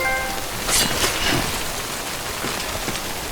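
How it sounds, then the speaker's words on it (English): Timefall rain in the video game Death Stranding, a steady close hiss of falling rain pattering on surfaces throughout, with no talk. "Rain degrades your equipment in this game."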